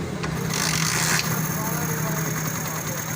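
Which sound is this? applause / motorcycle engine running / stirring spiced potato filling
motorcycle engine running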